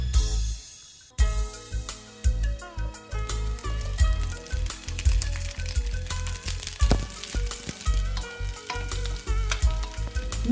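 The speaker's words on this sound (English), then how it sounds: "Now, in a clean wok, saute the sliced pepper and onion," Sliced pepper and onion sauté in canola oil in a wok, with steady sizzling that runs alongside frequent metallic clinks and scraping from stirring, close and busy throughout.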